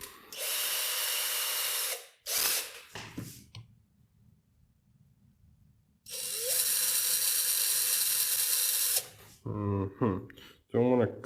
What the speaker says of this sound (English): I'll just get a drill bit, a small one, like a 3 or something,